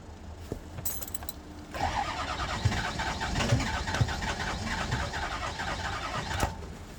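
Bus with a 6.0 engine cranking without catching, a rhythmic churning starter grind that runs for several seconds after a brief clink, then cuts off.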